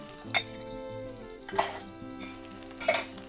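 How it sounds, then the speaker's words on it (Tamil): Brinjal pieces sautéing in oil in a pan for an oil-based Tamil curry, with a steady low sizzle and three sharp utensil clinks against the pan spaced about a second apart. "கத்திரிக்காயை நல்லா வதக்கி எடுத்துக்கலாம்."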